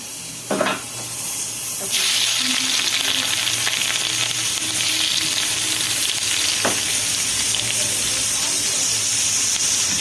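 Vegetables sizzle and fry in a hot pan for home cooking, a loud steady hiss that jumps up after a soft start and runs continuously, with a few brief clatters of stirring.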